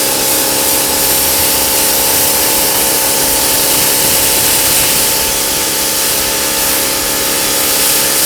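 Water spray rinsing ceramic coating off an F350 Platinum truck, a loud, continuous hiss of pressurized water that holds steady throughout with no voices.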